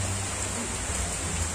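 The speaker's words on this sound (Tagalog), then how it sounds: "malakas na yung ulan." Heavy rain pouring during Super Typhoon Rolly (Goni), a steady dense hiss with a low rumble beneath and no pause, close and constant throughout.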